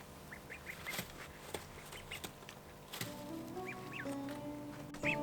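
Small ducklings peep and quack in quick bursts inside a large indoor enclosure, with tapping and shuffling sounds nearby and a faint steady hum underneath.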